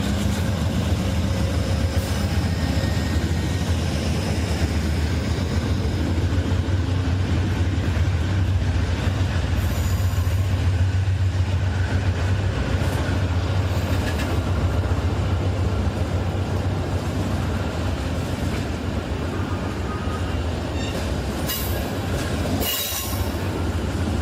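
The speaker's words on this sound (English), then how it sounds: "we're now pulling out of Albany-Rensselaer station" Amtrak Train 48 pulls out of Albany-Rensselaer station, heard from aboard as a loud, steady rolling rumble with rail clatter and brief wheel squeals throughout.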